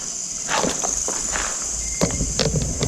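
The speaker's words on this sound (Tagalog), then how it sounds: "may footstep ako narinig" Footsteps at night land close and fairly loud, a few irregular thuds and scuffs spread over a few seconds against a steady high insect drone.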